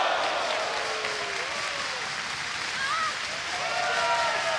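A wrestling crowd in Baltimore applauds steadily at a Women of Honor match, with dense, continuous clapping that fills the space and a few voices rising over it throughout.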